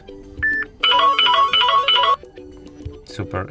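A Samsung Galaxy S4 phone plays a short, loud, bright electronic ringtone melody of rapid repeated notes, framed by quiet talking before and after.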